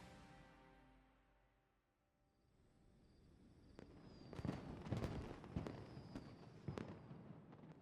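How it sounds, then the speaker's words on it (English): Fireworks in a Genshin Impact character trailer: a quiet lull gives way to a rising crackle and a series of sharp bursts and pops in the distance, growing louder toward the end. "The fireworks have started."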